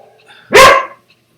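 A single loud dog bark, close and sharp, from a guard dog in the video game Metal Gear Solid, standing alone against near silence.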